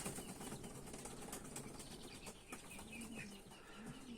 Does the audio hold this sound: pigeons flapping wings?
yes